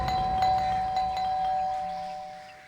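A doorbell rung loudly and insistently at a house door in a crime drama, several bright chiming strikes in quick succession with ringing tones that fade out, no talk over it.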